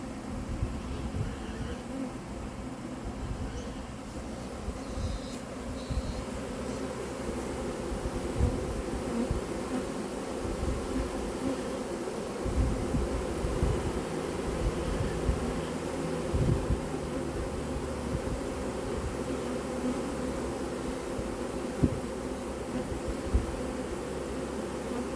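A honey bee swarm fills the air with a dense, steady buzzing hum, continuous and close, with no voices over it.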